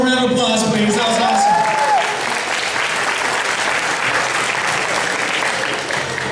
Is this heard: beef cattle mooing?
no